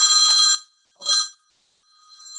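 A telephone rings with a bright electronic trill: one long burst, a shorter second ring after a gap, then a third ring starting faintly at the end.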